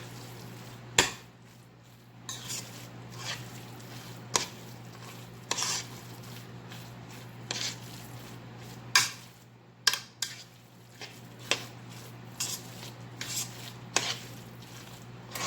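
A spoon stirring deviled crab stuffing in a pot: irregular scraping strokes and sharp metallic clinks against the pot sides over a steady low hum, with no talking.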